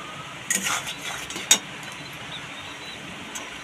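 Garam masala gets stirred into chili jackfruit in a pan, with a few close clinks and scrapes of a utensil against the pan over a quiet background, then near silence.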